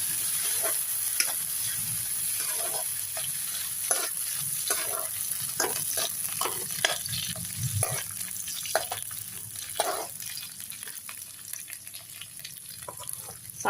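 Cashews and raisins frying in oil in a pan for pulao, a steady gentle sizzle broken by repeated sharp pops and crackles and scraping stirs, alone without voices.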